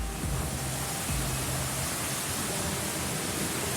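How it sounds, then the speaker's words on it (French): Loud, continuous roar of large, rough ocean waves during the Vendée Globe sailing race, a broad rushing wash of surf with no pauses. "Ça commence à bien grossir les vagues."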